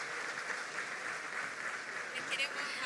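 An audience at a biotech conference gives a round of applause for a group photograph, a dense, steady wash of clapping lasting the whole stretch at moderate distance with some speech mixed in.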